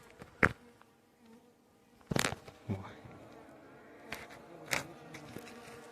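Honey bees buzz intermittently around the microphone in a forest, a few sharp close passes standing out against a quiet, faint background hum.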